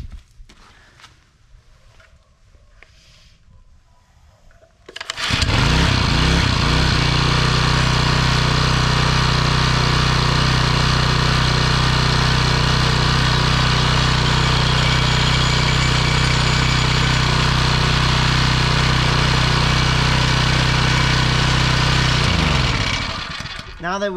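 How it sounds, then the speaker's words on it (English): Champion 9 ton log splitter engine starting after a few quiet seconds, then running loud and steady for about twenty seconds while the hydraulic plunger extends, before cutting off near the end. "we're gonna crank it up, we're gonna extend this plunger out all the way, then we're gonna cut it off"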